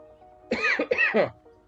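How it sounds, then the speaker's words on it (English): A few harsh, throaty coughs in quick succession, close and fairly loud, with no talking. "this bloody cough's still not gone"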